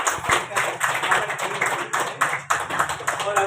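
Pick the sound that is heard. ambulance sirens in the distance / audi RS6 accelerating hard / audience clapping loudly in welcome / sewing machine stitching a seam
audience clapping loudly in welcome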